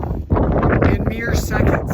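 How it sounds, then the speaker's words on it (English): Wind gusting on the Mt. Princeton ridge in Colorado: loud, close buffeting and rumble across the microphone throughout, with someone talking over it. "The wind on this ridge has been horrific"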